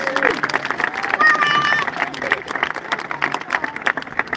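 Audience applause at a junior high school graduation ceremony, honoring the staff members; a steady wash of clapping from a crowd, with voices and cheers mixed through it.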